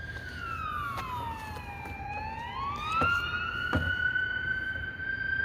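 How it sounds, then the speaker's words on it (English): A police car siren wails past at moderate distance, its tone sweeping down and then back up as the vehicle goes by over steady background traffic noise. "There was a police car that went by."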